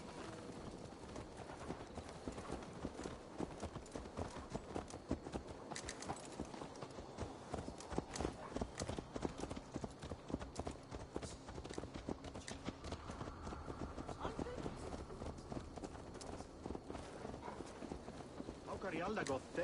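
Horse hooves clip-clop at a steady walking rhythm throughout in Assassin's Creed Valhalla, game-like and continuous, with a voice occasionally heard over them.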